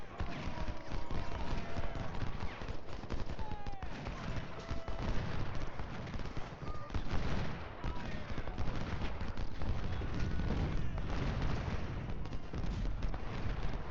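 Artillery and gunfire in the Ultimate General Civil War video game during a Port Republic battle, a continuous dense crackle of distant shots and booms with a brief voice heard over the din.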